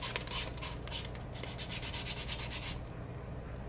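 Sandpaper scuffs the edge of a Yamaha boat gauge lens in quick, quiet back-and-forth strokes, a soft scratchy rubbing that then eases off.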